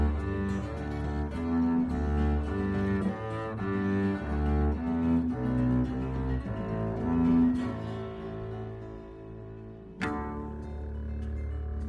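A bass guitar plucked with a pick plays inside a dense multitrack arrangement of layered string parts. The notes carry a steady melodic line, moderately loud and mixed with other instruments, with no voices.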